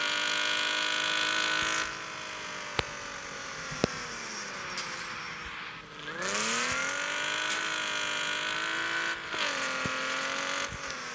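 A Cadillac Escalade with an LSA motor drives in Car Parking Multiplayer 2, its steady whining engine note rising and dropping with gear changes, plus occasional sharp clicks, no voices.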